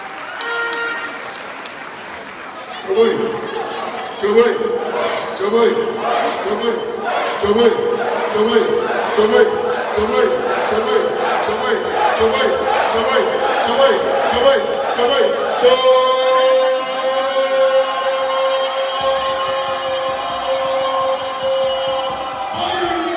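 Audience applause and cheering welcome a speaker at a New Patriotic Party youth rally on the UDS Navrongo campus, loud, dense and sustained for about 15 seconds, then giving way to music and a voice with crowd noise underneath.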